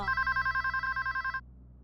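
A telephone rings at a police station, a rapid, evenly pulsing electronic trill that is close and clear, then stops abruptly after about a second and a half.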